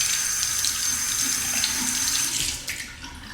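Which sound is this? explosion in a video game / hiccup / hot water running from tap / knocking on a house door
hot water running from tap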